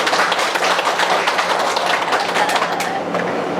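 A church congregation at a fourth-anniversary worship service claps together in a dense, steady burst of applause that fills the room, loud and continuous before thinning slightly near the end.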